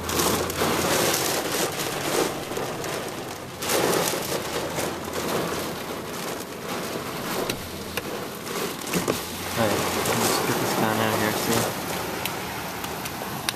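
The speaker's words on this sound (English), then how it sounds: "That is quite a lot of rain." Heavy sideways rain in a first spring storm pours down as a steady, loud broadband wash throughout, with voices talking over it.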